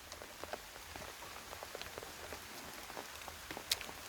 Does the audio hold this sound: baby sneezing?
no